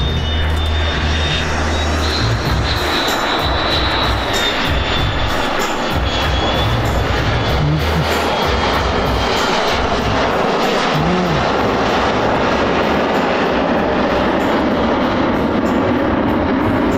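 A loud, continuous roar of an F-16 fighter jet engine, broad and rushing, sustained without pause as the aircraft passes overhead at a US Marine Corps air station air show.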